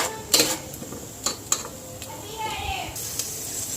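Cashews and almonds frying in ghee inside a pressure cooker, a soft steady sizzle broken by sharp scraping clinks of a spoon stirring against the metal pot, fairly quiet and close.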